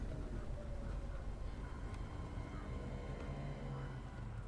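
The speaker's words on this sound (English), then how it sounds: "Train has stopped." Low rumbling train noise in Star Wars Jedi: Fallen Order, a steady heavy drone of rail cars with faint metallic tones as the train comes to a stop, continuous and fairly loud with no talk.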